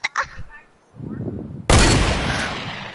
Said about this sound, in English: Bro, hit the snipe, don't miss